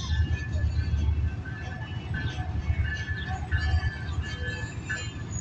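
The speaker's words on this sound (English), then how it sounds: "Oh, and there goes the train." A train rolls past nearby with a steady low rumble of wheels on rail and faint metallic squeals along the cars, continuous and fairly loud.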